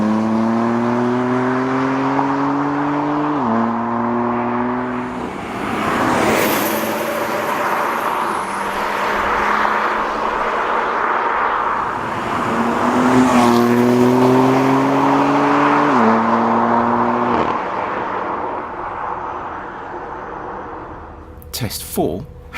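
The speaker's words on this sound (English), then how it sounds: "With both cars wide open in third then fourth gear" Two BMW cars, a diesel Alpina D3 and an M3, roar at full throttle, pitch climbing steadily, dropping at shifts from third to fourth gear, then climbing again; loud, close, and sustained, with faint voices underneath.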